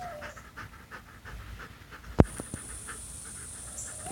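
A pet dog panting indoors, a quiet rapid rhythmic breathing that runs throughout, with a sharp knock or clack partway through and no talk.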